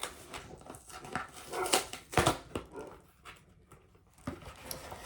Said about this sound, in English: Hopefully he will stop barking soon.